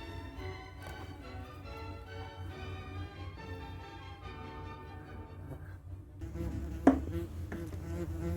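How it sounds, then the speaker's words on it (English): Worker wasps in a defensive swarm buzz steadily around a nest treated by pest controllers, a close, continuous droning hum that grows fuller near the end, broken by one sharp click. "So this is what we call a defensive swarm, which is what all these worker wasps are performing here in front of us."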